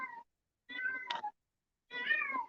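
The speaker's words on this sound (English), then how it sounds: "Pardon my cat." A pet cat meows three times, each call drawn out and wavering, with short silent gaps between them. The cat is close and clear, and no one else makes a sound.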